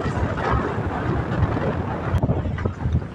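Steady, rushing wind buffets a microphone aboard an anchored boat at sea, a dense continuous roar with gusty swells and no voices.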